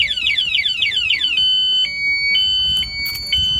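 A loud motorcycle anti-theft alarm: rapid descending warbling chirps, then steady piercing beeping tones repeating in short bursts.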